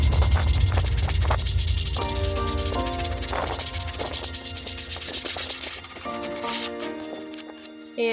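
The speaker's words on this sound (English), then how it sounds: "I used some sandpaper to smooth out all of the edges and also sand the image on the sign" Sandpaper rubs back and forth along the edges and glittered face of a wooden farmhouse pantry sign, making a rapid, rhythmic scratchy rasp close by that continues steadily with no talk.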